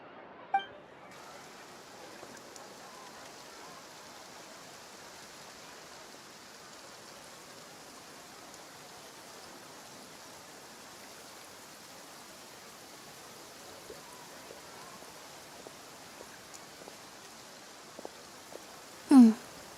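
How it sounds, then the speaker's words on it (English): Steady rain falls throughout a scene in Genshin Impact's Fontaine region, an even, soft hiss of drops with a few faint clicks and a short louder burst near the end. "Looks like rain."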